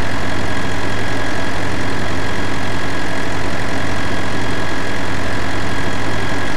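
A Bobcat skid-steer loader's small engine idles and runs steadily, a loud, constant low drone with a mechanical hum that never lets up, close up and with no speech over it.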